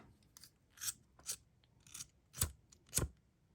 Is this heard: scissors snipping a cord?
yes